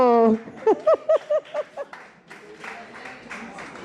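Audience applause at an evening arts and literature gathering, a short burst of clapping following sung or voiced tones at the start, then spreading into a broad, moderately loud crowd clapping.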